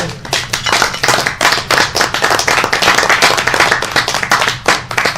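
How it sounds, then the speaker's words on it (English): Applause from a lecture audience on multi-winner voting methods, dense hand clapping sustained and loud throughout, close and steady with no talk over it. "if she doesn't get a massive round of applause, I'm going to quit this job"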